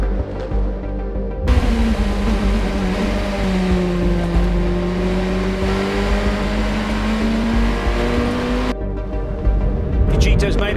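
Cool Racing's number 47 race car passes at speed, a steady engine whine rising and bending in pitch for several seconds before cutting off, with commentary talking over it throughout.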